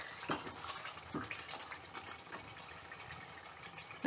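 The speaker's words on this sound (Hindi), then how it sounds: "अब हम इसमें पानी ऐड करेंगे।" Water splashes and trickles softly, with a few brief louder splashes, like liquid poured into a pot at close range.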